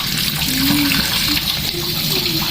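Freshwater eels (palos) are washed under running water, a steady splashing rush of tap water filling a basin, with faint voices in the background.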